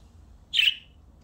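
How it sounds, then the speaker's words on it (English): A parakeet, a small parrot, gives one sharp, bright chirp up close, a brief squawky tweet standing alone over a faint low hum. "So this is a parakeet."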